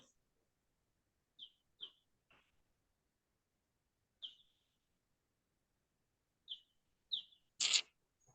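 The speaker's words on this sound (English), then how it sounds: "I hear birds chirping." Birds chirp outdoors in short, sharp, high calls, about eight scattered across a quiet background, mostly faint with one louder chirp near the end.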